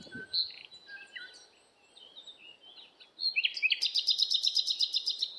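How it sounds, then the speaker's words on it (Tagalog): Soft scattered bird calls by a lake in Riyadh, Saudi Arabia give way to a loud, rapid run of repeated high chirps near the end, with no talking. "Madaming ibon."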